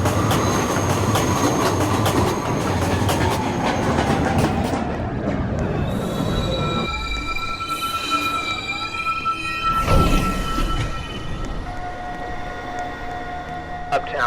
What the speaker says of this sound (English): Approaching the station, please stand away from the platform edge.